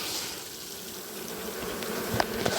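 Angry honeybees swarm out of an opened beehive in a steady, dense buzzing drone that fills the clip, with a few faint knocks near the end.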